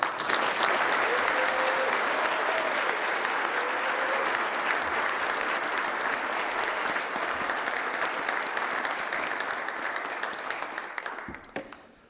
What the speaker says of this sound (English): Let's give a big round of applause for all of our sponsors.